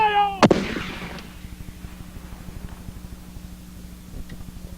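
A 12-pound cannon fires once in a sharp, booming blast right after a shouted command, followed by a decaying rumble and a steady mechanical idle in the background.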